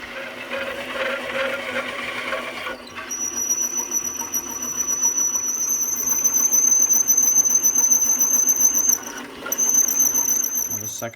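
Harbor Freight mini lathe with a 4-jaw chuck plunge-cuts into a metal cube, a steady motor whine joined by a high, piercing tool squeal that cuts out briefly and returns.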